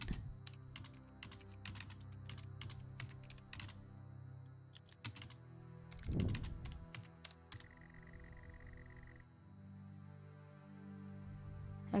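Computer keyboard typing while playing the horror game Stories Untold, crisp key clicks arriving in quick irregular bursts over a steady low game hum, with no talking.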